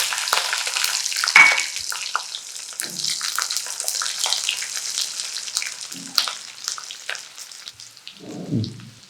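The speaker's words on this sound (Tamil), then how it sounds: "இப்போ பூண்டு கொஞ்சம் நல்லா வதங்கணும். அதனால் பூண்டை முதல்ல போட்டுறோம்." Garlic frying in hot oil in a pan for an eggplant gravy, a loud dense crackling sizzle throughout, a few low knocks near the end, no voices.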